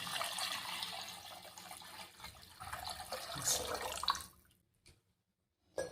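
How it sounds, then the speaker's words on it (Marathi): A litre of cold water is poured into a cooking pot of spiced oil, a steady splashing gush for about four seconds that stops abruptly, followed by a couple of faint clinks in near silence. "त्याच्यात मी हे 1 लिटर पाणी टाकून घेते"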